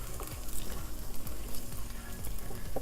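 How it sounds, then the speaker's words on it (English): Loud, steady sizzling of chicken frying in a hot pan, a dense crackling hiss with no talking. "Hear the sizzle?"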